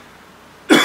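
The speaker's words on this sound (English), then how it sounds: "I have to cough again." After a moment of near silence, a single sharp cough bursts out close by.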